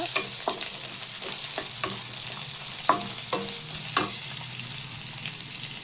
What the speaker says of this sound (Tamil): ஆயில் விட்டோடனே 2 வெங்காயம் போட்டு வதக்குங்க